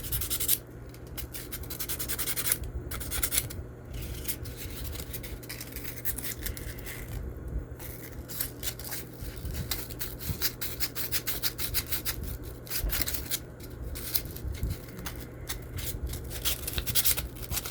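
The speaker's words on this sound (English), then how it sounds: "You can give it a good sanding again." Old solder being sanded off with sandpaper during a first soldering job, a steady scratchy rubbing that runs continuously and close up with short rhythmic strokes and brief pauses, with no voices.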